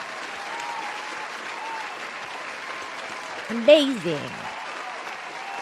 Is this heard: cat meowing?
no